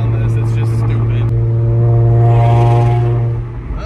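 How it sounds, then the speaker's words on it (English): Loud droning exhaust from a 2023 Kia Stinger GT2 while driving, a steady low harmonic rumble that swells briefly in the middle and eases near the end, close and continuous with faint voices beneath. "I got to get the exhaust fixed on this."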